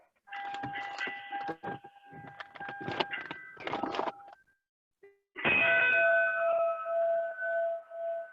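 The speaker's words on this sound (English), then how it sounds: "See the bell?" A fire truck's metallic bell clangs in a rapid irregular series, then after a short gap rings again with a sustained, resonant tone that fades slowly.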